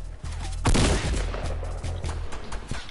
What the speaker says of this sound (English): Oh, fucking grenade launcher.